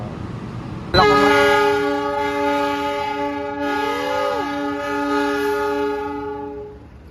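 Double-traction locomotive train at the Kertapati depot sounds a loud, sustained multi-tone horn that starts abruptly and holds for about six seconds, with a brief pitch sweep midway as a second tone joins, then fades out.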